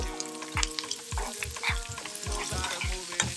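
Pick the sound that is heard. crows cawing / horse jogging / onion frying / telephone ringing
onion frying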